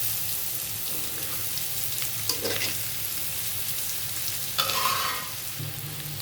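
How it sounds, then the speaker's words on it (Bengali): Food fries in a wok as the pan is swirled, giving a continuous, close, hissing sizzle with a couple of brief louder scraping surges and no talk. "কড়াইটাকে একটু ঘুরায় ভাজতেছি আর একটু একটু পরে উল্টাই দিচ্ছি"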